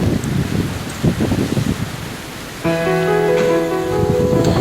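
Steady wind blowing across an open rooftop garden in the early morning, a continuous broadband rush with gusty swells and rustling. A sustained tonal hum joins partway through, and no one speaks.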